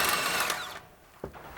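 A power tool zips out a large 19mm strut bolt during a coilover install on an Evo: a loud whirring burst fades out, then a short metallic clunk and a brief second rattle follow.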